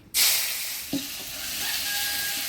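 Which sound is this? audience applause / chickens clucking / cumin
cumin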